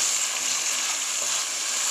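Seasoning for Jamaican fish head sizzles steadily in a hot pan, a constant close hiss without pauses.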